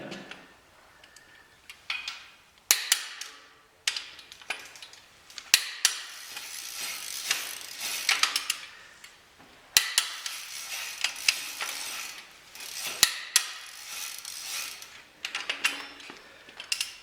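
Quick bursts of ratchet clicking come up close while LS cylinder head bolts are torqued, repeated strokes separated by short pauses and occasional metallic taps.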